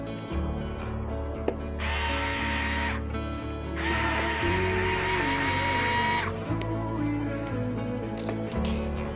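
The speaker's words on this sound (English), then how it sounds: "I prefer to use the wireless screwdriver." A cordless screwdriver drives screws while a TT Racing Swift X 2020 gaming chair is assembled, sounding as two long whirring bursts up close with small clicks and handling knocks between them.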